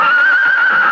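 The blue roan stallion gives a single sustained, high, wavering whinny, loud and close, in a radio drama, with no voices over it.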